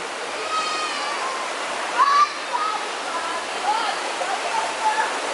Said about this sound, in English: Okay, so this is the noisy river.